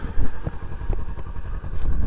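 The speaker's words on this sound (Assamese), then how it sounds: "তো এইফালে বাইক কুল ষ্টাৰ্ট হৈ আছে" A motorcycle engine idles steadily after being started, a close, continuous low rumble with slight pulsing irregularities and no talk.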